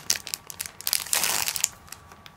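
Crinkling paper wrapping torn open from a custom Rollbahn notebook package, a close, busy rustle with sharp crackles building to a dense crumple in the middle before fading.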